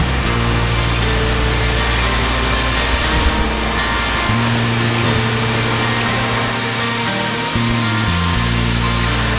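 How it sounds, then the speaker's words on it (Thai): A waterfall at a campsite in Kanchanaburi, Thailand, pours in a loud, unbroken broadband rush that stays constant throughout, with a low rumble underneath that shifts partway through. "เดี๋ยวผมพาลงไปดูน้ำตกนะ"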